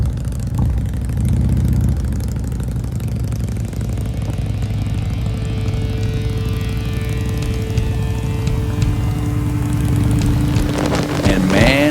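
A Harley-Davidson motorcycle rumbles steadily as it rides off toward the Black Hills of South Dakota, a loud continuous low engine drone throughout with a rising rev near the end.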